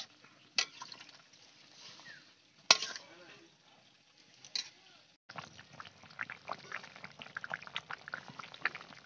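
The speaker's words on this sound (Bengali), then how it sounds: "আমার মাংসটাই টকবক করে ফুটছে" A pot of chicken curry bubbles and simmers steadily after water is added, with soft popping and sizzling textures and a few sharper knocks from utensils against the pot.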